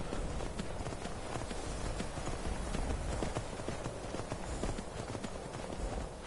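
Steady clip-clop of horse hooves trotting in the video game Skyrim, continuous and fairly loud, with a busy background ambience throughout.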